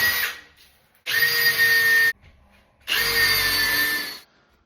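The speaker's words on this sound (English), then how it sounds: "Drill a couple of holes in it." A power drill whines through timber in two separate bursts of about a second each, close and loud, with quiet pauses between.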